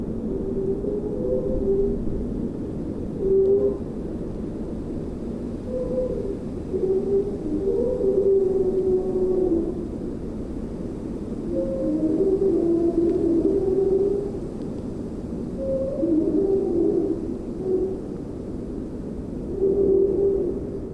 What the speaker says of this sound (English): This is the sound of ice on the Mississippi River, recorded by NPR News reporter Tim Nelson